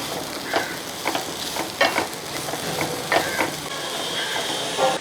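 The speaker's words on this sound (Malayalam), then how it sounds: "ഇതൊന്ന് ഇളക്കി കൊടുക്കാം" A curd, chilli and onion thoran is stirred in a pan, giving a low sizzle under a series of spaced, close scraping and tapping strokes of a spoon against the pan.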